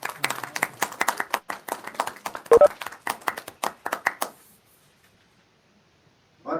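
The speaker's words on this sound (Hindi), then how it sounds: "ताली बजाओ" Audience applause breaks out at an Indian railway general manager's award ceremony, a burst of rapid crowd clapping that swells and then fades away into near silence, with a short thump partway through.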